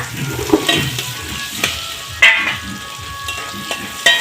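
Chili powder, cumin and slit green chilies sizzle in a frying pan as a spatula stirs them, giving a light crackling hiss broken by several sharp scraping taps.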